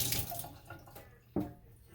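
Trumpet slide and parts rinsed under a running tap, water streaming steadily into a sink with a brief splashing surge near the end, close and fairly quiet, no talking.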